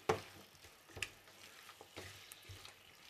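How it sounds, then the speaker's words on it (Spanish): Bacon and chorizo frying in a pan: a quiet, soft sizzle with a few sharp pops and occasional stirring clicks, close but faint, with no talking. "Para que se fría nuestro bacon y nuestro chorizo."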